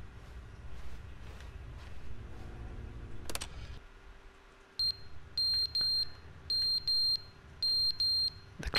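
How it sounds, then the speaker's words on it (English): Smoke alarm in The Stanley Parable game, a run of high repeated electronic beeps in short clustered bursts over a low hum, after a brief crash. "That alarm's going off though. And a smoke alarm."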